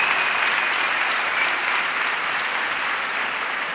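Audience at a Galician reading clubs conference breaks into steady, dense applause, loud and continuous throughout with no voices over it.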